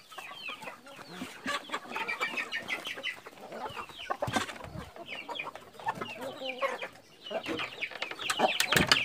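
Soft clucking and peeping from chicks of a giant-breed hen near by, a busy flurry of small fowl calls with occasional louder squawks.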